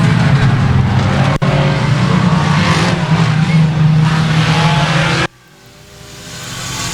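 Four-cylinder race cars roar around Boothill Speedway at a main event finish, a loud sustained engine drone that cuts off sharply near the end, leaving faint crowd ambience.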